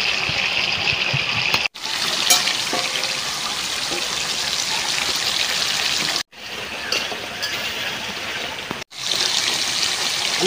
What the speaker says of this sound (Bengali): আমি জলের পানি দিয়ে দিচ্ছি